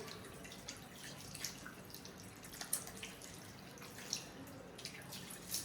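Soft water from a tap splashes and drips as hands are wet under it, faint and close, with small irregular spatters and no talking.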